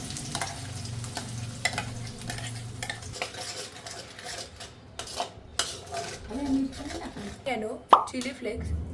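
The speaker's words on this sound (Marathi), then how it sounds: "आता थोडासा हा गरम आहे, तर त्याच्यातच मी आता ही ग्रेव्ही टाकेल." Gravy tipped into hot oil in a pan for lauki palak kofta curry, sizzling and plopping with spoon stirring and utensil clatter, a steady close kitchen bed with sharp clinks, voices speaking over parts of it.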